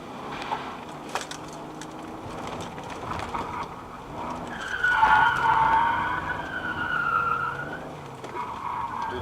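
During a rally stage in Wrocław, a rally car slides sideways with a rising, whining tyre skid over engine noise and gravelly rumble, loud and up close.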